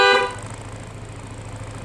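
A Yamaha Aerox V1 scooter horn gives one short, loud honk at the very start, then cuts off and leaves a steady low electrical hum.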